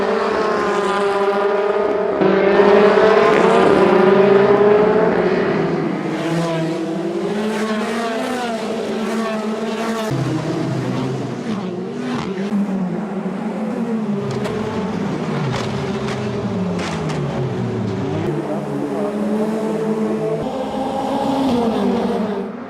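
Race cars pulling away from the start of a race, engines snarling loud and close with rising and falling pitch, a roaring pack sound that holds steady throughout.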